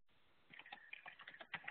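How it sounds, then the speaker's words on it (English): Quiet, close typing on a computer keyboard, an irregular burst of light key clicks starting after a short silence. "Sorry, I'm trying to keep up with typing."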